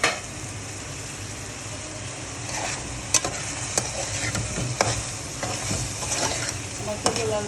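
Pointed gourd and potatoes sauté in a pan and get stirred, an even sizzle beneath scattered scraping knocks of a utensil against the pan, close and with no talking.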